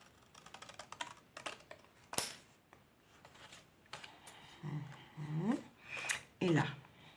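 Paper being cut by hand for a scrapbook gift, with short crisp snips and rustling across the span, mixed with a voice talking nearby.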